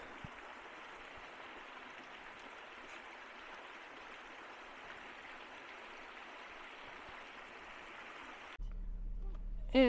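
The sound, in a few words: mountain creek flowing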